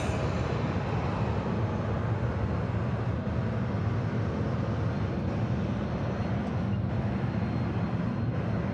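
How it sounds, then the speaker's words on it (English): A Delta Airlines Airbus A321neo jet at Atlanta Hartsfield-Jackson airport, its engines giving a steady, rumbling broadband roar that holds fairly even for several seconds, heard from a distance without speech. "That's A321neo making all that noise"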